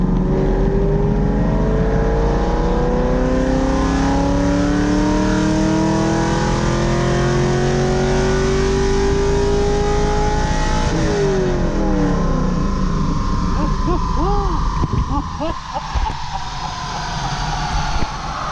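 A car engine revs hard through a Dynojet dyno pull, its pitch climbing steadily for about eleven seconds, then dropping off and burbling as the throttle closes, loud and close throughout.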